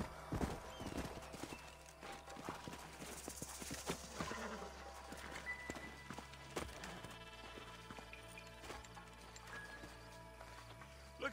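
Horse hooves clip-clop steadily at a walking pace in the video game Red Dead Redemption, with scattered clatter and a low background hum, no talking.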